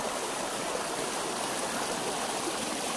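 A small unnamed waterfall on a stream near Barangay Concho pours in a steady, dense rush of falling water, close and continuous with no break and no voices over it.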